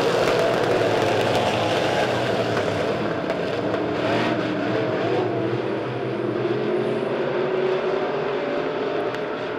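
Street stock race cars run door to door through the turns at Springfield Raceway, a loud, continuous engine roar from the pack that rises and falls slightly with no talk over it.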